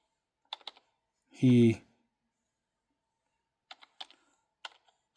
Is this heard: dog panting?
no